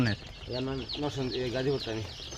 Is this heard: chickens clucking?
yes